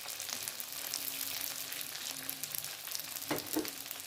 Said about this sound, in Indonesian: Setelah dipotong-potong, bakso siap digoreng.